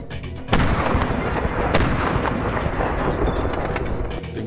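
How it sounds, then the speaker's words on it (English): A .416 rifle fired at a buffalo bull during an African hunt: a sharp loud report booming and rolling outdoors, then another crack a moment later, with no talk. "I was going for heart lung with a 416. And we managed to get a couple more shots in."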